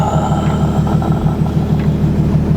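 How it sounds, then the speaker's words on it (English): Loud, throaty car exhaust rumbling steadily at close range, a continuous deep engine drone with no speech. "the exhaust, it sounds really good"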